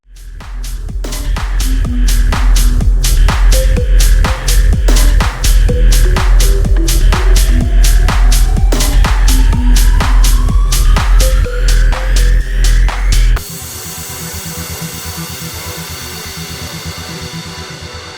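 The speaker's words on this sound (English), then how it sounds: "So I'm going to get my Sawzall." A Sawzall reciprocating saw cutting through a big tree root beside a PVC fence post: a loud, steady rhythmic chattering buzz with pitch that rises and shifts as the blade bites, then dropping to a lower, steadier drone near the end, close and without talk.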